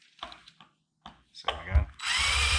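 Power drill cutting out a rivet on a VW Bay Window windscreen bracket, starting with a few short bursts and ending in a sustained high whine, close by.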